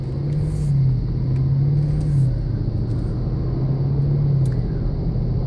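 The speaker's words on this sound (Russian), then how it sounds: "Я сейчас пропущу. Куча там машин за мной." Several cars pass one after another on a road near a family barbecue, deep rumbling swells that rise and fade in a slow rhythm, close and fairly loud, with no one talking.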